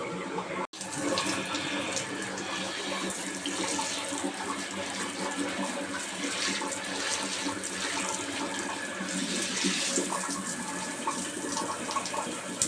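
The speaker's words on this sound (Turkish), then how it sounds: "Ama devamlı su akıyor." Water runs continuously from a tap during household cleaning, a steady splashing hiss with a brief clunk near the start and no speech.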